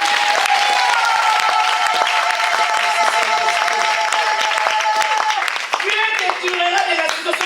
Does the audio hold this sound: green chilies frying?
no